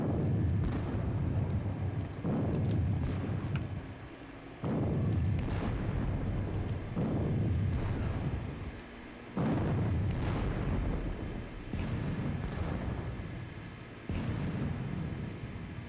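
Booming artillery fire from a Napoleonic battle video game at Friedland, a series of about six heavy blasts spaced a couple of seconds apart, each with a rumbling decay, steady and moderately loud.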